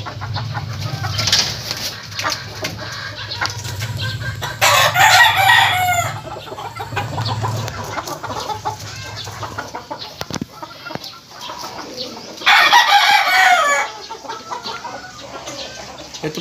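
Roosters crow loudly in a coop of gamefowl stags, two long bursts standing out over steady clucking and low flock murmur, with occasional wing flaps.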